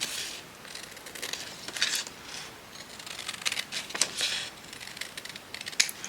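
Scissors cutting off a small piece of material, heard as a series of quiet, crisp snips and rustles at irregular intervals, close by and without talk.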